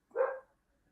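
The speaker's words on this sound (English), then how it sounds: "Dog's barking." A single short dog bark rings out clearly and fairly close, with no talking over it, then quiet follows.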